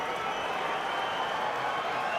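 A capacity boxing arena crowd of over 16,000 roars and applauds for Jean Pascal before a 2010 fight, a dense steady wash of cheering and clapping throughout.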